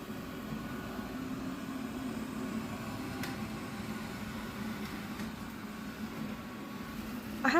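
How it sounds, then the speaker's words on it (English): A Eufy Robovac G30 robot vacuum runs steadily indoors, giving a quiet, even whir with a low hum that holds unchanged throughout, faint and close, with no talking. "this is what the vacuum sounds like when running"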